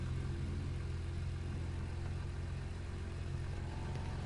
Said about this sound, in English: I'm just gonna turn the music off for a minute because I wanna hear the sound of this engine